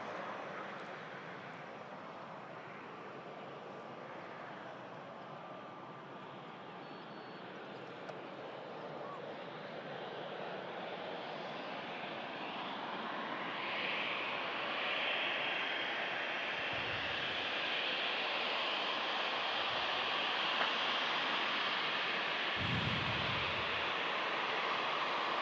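Broadband roar of a Jet2 aircraft, registration 75 Alpha India, at Manchester Airport, building steadily in loudness as the engines run and the jet draws nearer, with brief low thumps near the end.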